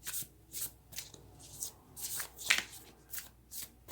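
A deck of moonology oracle cards being shuffled by hand, soft papery riffles and slides repeating in short bursts about twice a second, quiet and close with no talk.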